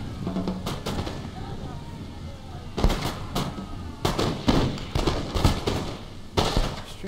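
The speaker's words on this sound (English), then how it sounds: "So my skirmishers will start shooting them as long as they don't charge." Musket volleys from skirmishers in the Napoleon Total War battle game, irregular crackling bursts of distant gunfire that build into scattered clusters of shots with no one talking.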